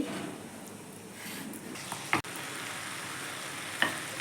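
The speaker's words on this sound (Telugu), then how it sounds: "గోరుచిక్కుడుకాయ కొత్తిమీర 2 కలిపి ఫ్రై అవ్వాలి." Steady sizzling of cluster beans and coriander frying in a pan, with a couple of sharp clinks from a utensil partway through.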